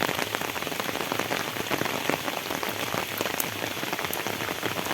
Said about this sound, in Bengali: দেখেন প্রচুর পরিমাণে বৃষ্টি হচ্ছে